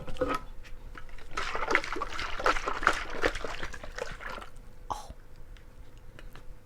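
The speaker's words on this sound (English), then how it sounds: "I'm just going to give this a little shake" Lemonade diluted with water is shaken in a container, making close sloshing, splashing liquid sounds in uneven bursts that fade into a softer trickle.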